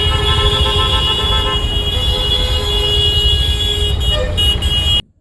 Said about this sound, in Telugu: ఇంతసేపు మీరిన్న హారన్ సౌండ్ అంతా దీనికోసమే.